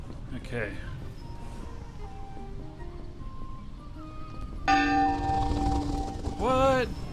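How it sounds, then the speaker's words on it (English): Bell ringing in the Shroud of the Avatar video game: a sustained bright, tonal ring that enters sharply midway and rings on steadily, with steady sustained tones before it and a voice speaking over the end. "What's this bell? Is it dinner time?"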